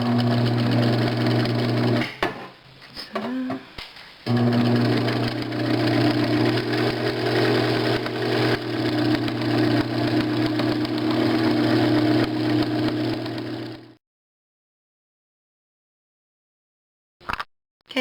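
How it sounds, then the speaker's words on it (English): An electric sewing machine stitches a cloth diaper with a steady humming whir, broken by a few brief stops and restarts near the start, then running continuously before cutting off into silence with a short clunk at the end. "I finished sewing all the way around"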